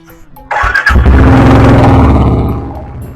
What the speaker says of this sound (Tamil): கைஸ், பைக் எடுத்துட்டோம். நம்ம கிளம்புறோம்.